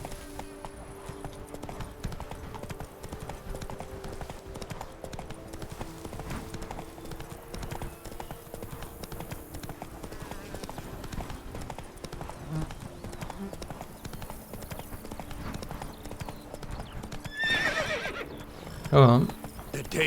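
Roach the horse trots in The Witcher 3, steady hoofbeat clip-clops running the whole way at a moderate level, with a louder whinny rising near the end.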